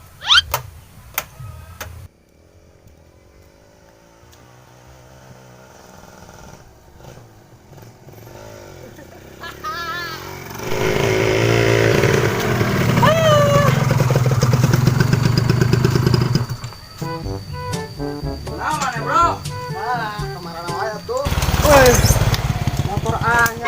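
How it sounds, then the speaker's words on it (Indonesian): A new motorcycle engine running nearby, its steady rumble rising and falling beneath people chatting in a light, comic everyday scene. "Motor anyar euy."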